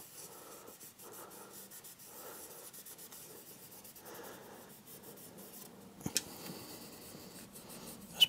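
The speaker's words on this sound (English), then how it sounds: "I'll get an alcohol wipe and take all the residue of the dried up thermal" An alcohol wipe rubs dried thermal paste residue off the circuit board of a faulty Xbox 360 Slim, giving a steady, soft, close scrubbing with brief pauses and a couple of sharper scrapes near the end; no one speaks.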